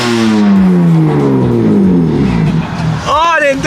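A BMW M3 engine revs loudly close by. A deep, sweeping roar climbs and falls over several seconds, and a voice cuts in near the end.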